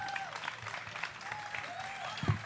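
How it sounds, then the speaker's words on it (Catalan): Faint applause from a small audience at a live show, soft scattered clapping with cheering voices and some talk mixed in. "Un fort aplaudiment per les sonars també"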